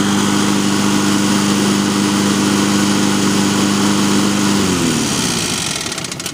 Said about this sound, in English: the exhaust valve is clattering on the actual stem